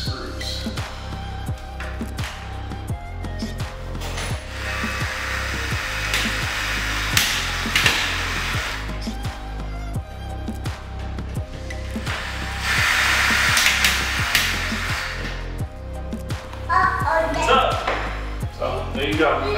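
A window screen being fixed back in place with screws: a power screwdriver whirs in repeated short bursts with tapping and knocking, while people talk throughout.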